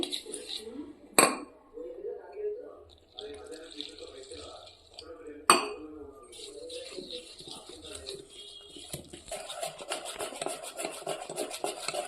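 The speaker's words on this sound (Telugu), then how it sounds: "ఇది ఒక్కసారి కలుపుకొని కొన్ని కొన్ని వాటర్ పోసుకుంటూ కలుపుకుందామండి" A utensil rasps and scrapes through boondi batter in a bowl while water is poured in, giving continuous wet stirring with two sharp knocks against the bowl and a faster rhythmic scraping near the end. A person talks over it.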